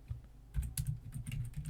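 Fast keystrokes on a computer keyboard while writing a simple C++ program in Microsoft Visual C++ 2019, a steady close run of clicky taps with no talking.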